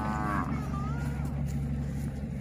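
A cow moos once over steady low engine or crowd noise outdoors, its drawn-out call rising and falling near the start and again midway, with faint voices in the background.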